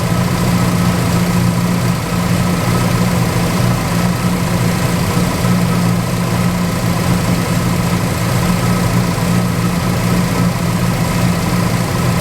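A Pontiac GTO idles with its air conditioning, lights and stereo all running, giving a steady, loud, low engine hum with constant vibration throughout and no voices.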